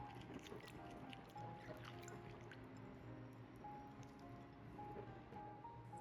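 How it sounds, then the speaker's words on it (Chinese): Dried lily bulbs being rinsed by hand in clean water, with soft, faint sloshing, drips and squishy handling at close range, no speech. "先放入清水裡簡單抓洗一遍，洗去表面的灰塵和雜質"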